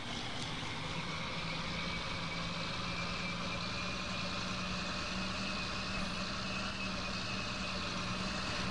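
A tractor in the Farming Simulator 19 video game drives along with a steady, unbroken engine drone that stays at an even level throughout.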